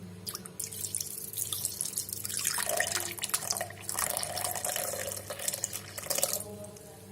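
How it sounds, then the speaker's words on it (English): Cold milk poured into a jar while making cold coffee, a steady liquid trickle with dripping and splashing that runs continuously for several seconds, fairly close and moderately loud, with no talking. "Now add some cold milk."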